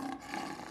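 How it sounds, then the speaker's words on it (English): Lion roar recorded in Africa and played back as a phone ringtone, a short, faint, rough burst lasting under a second. "It's Bertram Afraid of a Lion"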